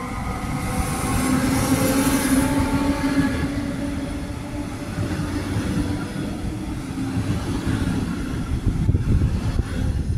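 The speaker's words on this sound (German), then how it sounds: "Und hier hält auch die Bahn." A train on the line to Kleinwettingen rumbles steadily at close range with a strong low roar and faint squealing tones, staying loud and continuous throughout without speech.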